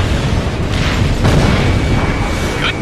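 In Ace Combat Infinity a destroyed anti-air gun explodes with a loud, close boom, a dense rumbling burst that lasts for a few seconds.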